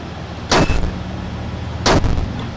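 Turret in a roguelike video game firing two sharp, loud shots about a second and a half apart, each ringing off briefly over a steady low background hum.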